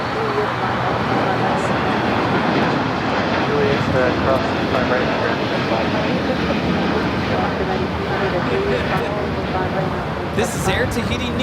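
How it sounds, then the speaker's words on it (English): Air Tahiti Nui Boeing 787-9 Dreamliner taking off at Los Angeles airport for Paris, a loud, sustained jet engine roar with traffic-like rumble beneath, and someone talking over it throughout. "This is Air Tahiti Nui Flight 8 taking off to Paris on the 787-9 Dreamliner Revolve."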